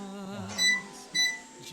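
Timer beeps on a kitchen appliance while glogg simmers, two short electronic beeps over a low steady hum.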